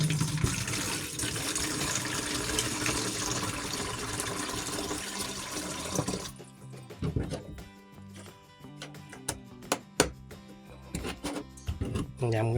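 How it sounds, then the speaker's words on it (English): Tap water pours into a container of banana-water liquid fertilizer in a South African garden, a continuous splashing rush for about six seconds, then stops into quieter intermittent clinks and handling sounds. "And I'm gonna add the 4 liters of water in here"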